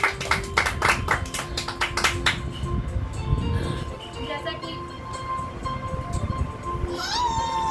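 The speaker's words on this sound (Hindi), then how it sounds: "जोरदार तालियों से स्वागत करिए" An audience at a ghazal evening claps to welcome a performer, a brisk burst of applause for roughly two seconds that quickly thins out beneath a sustained tonal hum and background voices.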